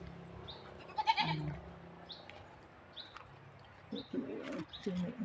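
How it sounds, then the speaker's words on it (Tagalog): Goats bleat a few times, short wavering calls amid quiet rural outdoor ambience in the Philippines, with birds chirping faintly in the background. "yung kambing ah, nag-aantoy na"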